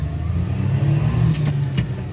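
A kei truck accelerating and revving hard, its mid-pitched engine holding a steady, close drone through the whole stretch with no voices over it.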